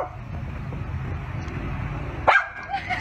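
A dog gives a single sharp bark near the end, loud and close, after a stretch of quiet indoor background noise.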